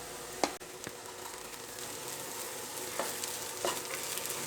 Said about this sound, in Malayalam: മഞ്ഞളുടെ ആ പച്ചക്കുത്തെല്ലാം മാറാനായിട്ട് നന്നായിട്ട് ഇളക്കി കൊടുക്കുക